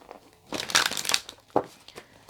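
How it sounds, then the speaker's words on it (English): Tarot cards being shuffled by hand, a few close papery riffles and slaps in short bursts, loud and near, with no voice over them. "It's one more shuffle, Aries."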